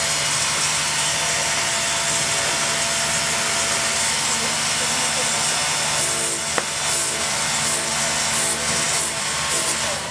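A greens harvester blade being sharpened with a hand sharpener, giving a continuous loud abrasive rasping and rubbing that turns into short rhythmic strokes near the end, close up over steady noise.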